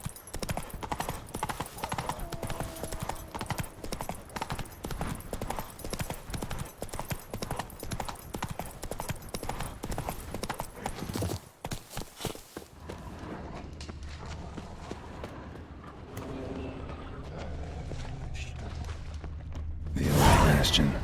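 Roach the horse gallops in The Witcher 3, with a fast, steady clip-clop of hooves for about twelve seconds that then eases into softer, sparser steps over quiet game ambience.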